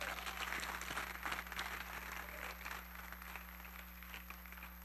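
Church congregation applauding together during a sermon, a steady wash of many hands clapping at moderate distance, holding evenly for several seconds then easing slightly, with a constant low hum underneath.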